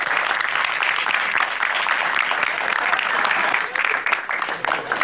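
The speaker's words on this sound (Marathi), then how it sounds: "मी मंडळाच्या वतीने आपण सगळेजण त्यांचं टाळ्या वाजवून आपण स्वागत करूया." An audience claps steadily to welcome a chief guest at a Marathi comedy show, a dense, sustained applause that fills the room for several seconds, with no speech over it.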